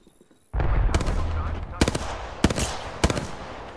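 Rapid bursts of gunfire in a battle royale video game, several sharp shot clusters cracking over a dense, busy background of game noise.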